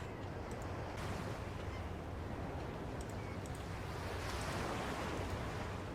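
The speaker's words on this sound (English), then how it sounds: "Ooh, I hear ocean waves." Ocean waves in a video game wash in a steady, continuous surf roar, broad and even throughout with a few faint high chirps above, no talking.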